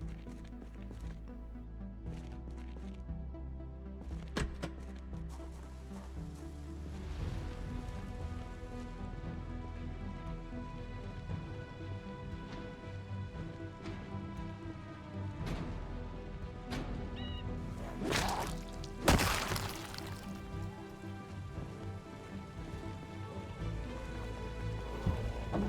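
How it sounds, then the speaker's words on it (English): Steady rain falls in the video game Project Zomboid, a constant close hiss of drops on surfaces lasting throughout, with a louder crash-like burst partway through. "I got dressed and headed out into the rain"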